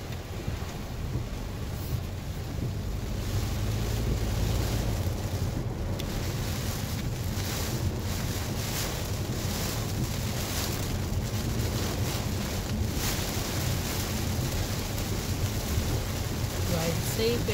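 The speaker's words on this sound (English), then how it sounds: "looks like the storm is coming." Wind ahead of approaching Storm Eta in the early morning, buffeting the microphone in a loud continuous rush with gusty surges, and a voice is faintly audible beneath it.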